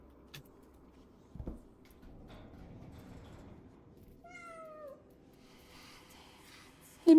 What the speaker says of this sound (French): Les miaou miaou.